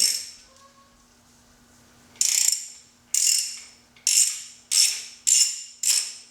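A 3/8-inch drive ratchet and socket loosening a bolt on a spring-loaded tensioner, heard as six loud, close bursts of rapid clicking, each about half a second long and spaced roughly a second apart, after a quiet stretch.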